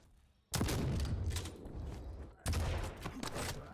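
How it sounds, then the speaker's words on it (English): Railgun shots in a Quake duel match, two sharp loud blasts about two seconds apart, each followed by a ringing, crackling decay. "Cypher is actually hitting the railgun"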